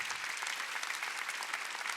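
Sustained, even applause from a church congregation at a Korean Wednesday worship service, many hands clapping at once in a continuous crowded patter.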